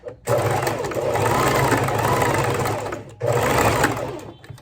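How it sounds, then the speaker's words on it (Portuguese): A sewing machine stitches the leg of a garment in two loud, rapid runs of mechanical clatter separated by a brief pause. "vamos cortar essa linha aqui e vamos costurar a outra perninha"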